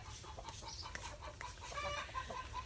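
Chickens cluck softly and faintly over a treat of dried mealworms, with a few higher calls standing out late against a steady outdoor background hum.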